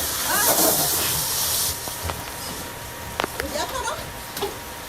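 Hot water steam hisses from a leaking pipe as a broad, steady rush for about two seconds, then fades under scattered voices and short sharp knocks.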